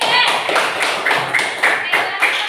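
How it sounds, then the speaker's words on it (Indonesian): A classroom of students claps in short, rhythmic bursts, several distinct rounds of hand claps close by with a brisk, uneven beat. "tepuk tangan untuk kelompok tiga."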